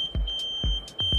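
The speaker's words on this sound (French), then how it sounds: "Donc on a la sirène anti-vol de 110 décibels qui est incluse." A motorcycle anti-theft siren rated at 110 decibels, mounted on a CF Moto bike, gives three short chirping bursts in a steady rhythm over a constant high electronic tone, heard from a short distance and not very loud.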